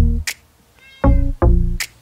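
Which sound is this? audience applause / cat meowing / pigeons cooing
cat meowing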